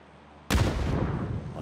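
A frag grenade in the video game PUBG detonates with a single sudden loud blast after a quiet lull, then decays into a rumbling, crackling tail.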